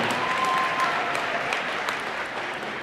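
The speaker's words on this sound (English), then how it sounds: "Give them a round of applause" Audience applause for speakers at a motivational seminar, a dense, even patter of many hands that fades slightly toward the end, with no voices.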